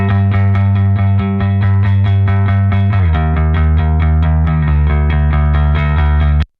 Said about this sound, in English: So I've got a completely dry bass amp sound dead center.